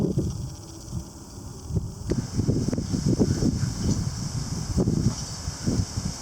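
Gusty wind blowing outdoors during an early winter-like cold blast with rain, rumbling in uneven bursts that rise and fall continuously with low buffeting against the microphone, no voices present.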